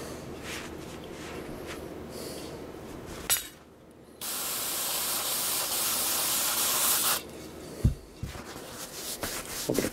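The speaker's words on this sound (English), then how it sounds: "A little bit of carb cleaner." A can of carb cleaner sprays in a steady close hiss lasting about three seconds, with shop handling noises before and after.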